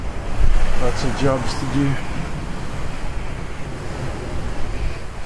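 Rough sea surf and steady wind buffet a sailing boat making 8-9 knots on an open-ocean passage from Cape Town, a continuous wash of water and wind noise with someone talking briefly over it.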